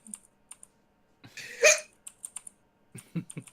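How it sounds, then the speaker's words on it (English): A man hiccups in a quiet room: a few short, sharp bursts, the loudest near the middle, with faint clicking and rustling around them and no talking. "And now he has the hiccups."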